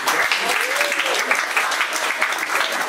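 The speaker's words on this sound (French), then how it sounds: "Viens Héloïse, on peut l'applaudir." A room full of people claps steadily, a dense crackle of applause with a few voices murmuring underneath.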